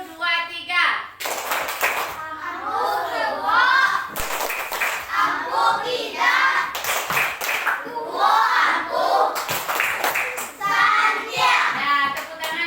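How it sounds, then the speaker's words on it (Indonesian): Children in a classroom clap their hands in rhythmic bursts for a group, with a teacher's voice speaking over and between the claps. "sekarang kita kasih tepuk tangan untuk kelompok yang betul semuanya"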